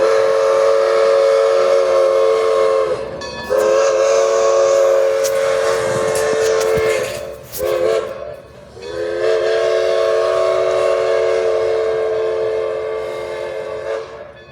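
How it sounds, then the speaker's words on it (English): A steam train decorated with Christmas lights rumbles past close by as its loud, sustained whistle blows in long blasts, broken by a brief gap, with clattering rail noise underneath. "It's a steam train."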